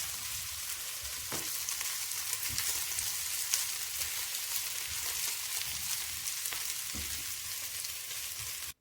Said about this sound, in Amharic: ትንሽ ቀላ እስከሚልልን ድረስ በደንብ መጥበስ አለብን።